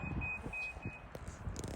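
A bird on an Australian grass farm gives short, high, evenly spaced beeping calls, three or four clear repeated notes, heard over low outdoor rumble and background noise.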